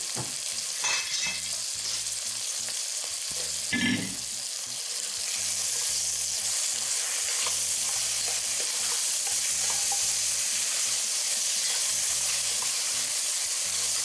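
Tomatoes cook in a pan for a red beans and butternut squash dish, giving a steady soft sizzle throughout, with a few louder clatters and stirring scrapes near the start.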